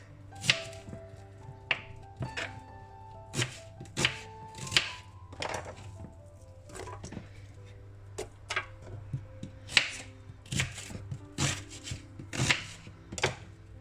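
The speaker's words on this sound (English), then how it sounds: "And now I'll roughly chop the carrots. And the onions." Carrots and onions roughly chopped with a knife on a cutting board, a steady run of sharp, close knocks in an uneven rhythm over a low background hum, with no talking.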